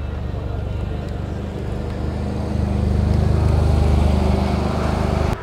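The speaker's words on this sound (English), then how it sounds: "We also have some more cars pulling out here." Porsche sports cars pulling out onto the circuit at a Porsche Festival at Rudskogen, Norway, a steady low engine rumble that swells louder midway and holds, with a person talking over it.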